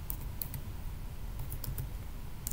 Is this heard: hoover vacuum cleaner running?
no